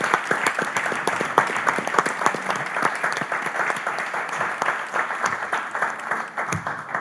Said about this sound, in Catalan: Dediquem-nos un aplaudiment tots i pleguem.